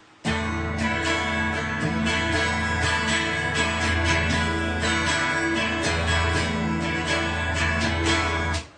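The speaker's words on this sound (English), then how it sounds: "the pattern is down, down, up, up, down, up." Full, bright guitar strumming in a steady rhythmic pattern of down and up strokes, loud and close, played alone without any talking.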